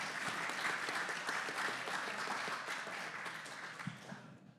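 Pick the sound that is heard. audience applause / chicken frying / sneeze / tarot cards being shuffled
audience applause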